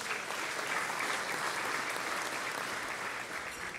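An audience at a business awards event applauds its sponsors, steady dense clapping from a sizable crowd heard at a moderate distance, sustained throughout.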